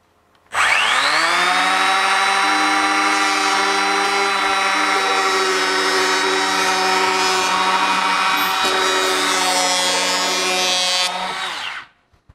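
Bosch GHO 12V cordless electric planer spinning up to a steady high-pitched whine and running continuously at its lowest setting before winding down, loud and close with no talk.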